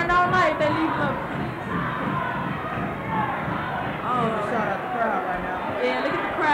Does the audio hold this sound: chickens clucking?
no